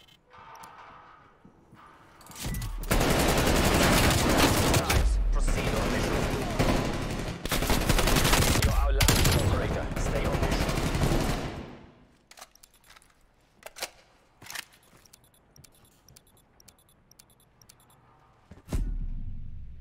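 Sustained automatic gunfire rattles loud and close in a multiplayer shooter match, with long bursts for about ten seconds, then scattered single shots and a final burst.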